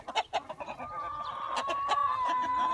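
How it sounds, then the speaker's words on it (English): A Rhode Island Red hen in a chicken coop clucks in a few short close bursts, then lets out a longer, drawn-out squawking call that holds steady to the end. "I think that hen's trying to holler at you over there"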